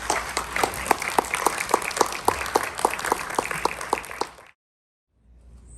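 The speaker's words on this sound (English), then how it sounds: "please give a round of applause for Mr." An audience claps steadily for about four seconds after a classic film screening, the applause fairly close and full before cutting off abruptly into near silence.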